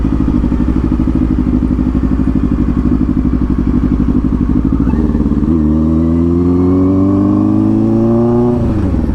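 Motorcycle ride heard close and loud, the engine droning steadily before climbing through a rising rev as the bike accelerates, with wind and road rumble underneath.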